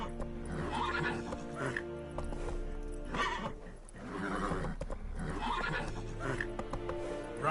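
Roach the horse in The Witcher 3 gallops with steady clip-clopping hooves and breaks into loud neighs and whinnies, up close over a continuous game music bed.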